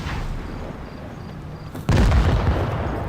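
A low rumbling field gives way to a heavy, loud boom of tank cannon fire in a World of Tanks Blitz tournament match, with the blast's rumble hanging on afterward.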